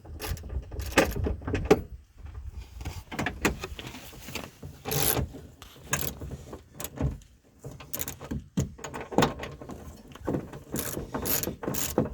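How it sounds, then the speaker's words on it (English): A ratchet tightening bolts while setting up an Alamo Chuckwagon, giving close, irregular bursts of sharp mechanical clicking with brief pauses between strokes. "The ratchet that comes with it does not have the ratcheting handle."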